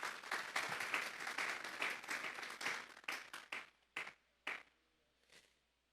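A church congregation breaks into loud, sustained applause that fills the room for about three seconds, then thins into a few scattered final claps before falling silent.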